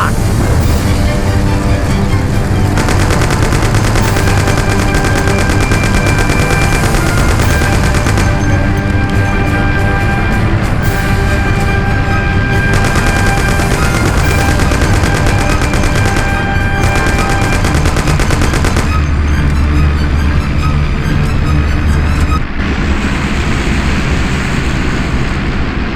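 Gunfire in the video game Mafia, mission 16: loud, sustained bursts of automatic fire with booming blasts packed together, continuous and dense throughout with only brief changes in texture.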